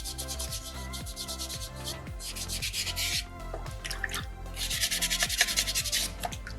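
Sandpaper is rubbed over a small soapstone shark carving, giving close, rhythmic scratchy strokes in bursts with short pauses between them.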